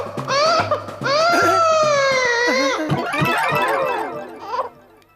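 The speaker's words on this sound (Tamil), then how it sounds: "என்ன குழந்தை அழுகுற சத்தம் கேட்டுது?" A baby cries loudly and close by in sustained, wavering wails with brief breaths between, then breaks into shorter sobbing cries before fading near the end.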